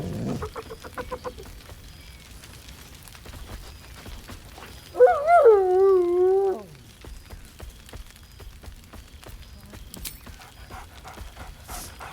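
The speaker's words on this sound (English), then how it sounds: "Scratch barks merrily in something like agreement." A dog in the video game Baldur's Gate 3 gives one drawn-out, tonal bark that rises and wavers for over a second, standing out clearly against a quiet, clicking background.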